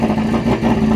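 A car engine with a suspected VVT clutch or valve fault runs steadily for a moment, with a close, even hum and a slight rattle.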